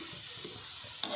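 Small kul kul dough pieces frying in hot oil, a soft continuous sizzle with faint bubbling and one brief stir near the end.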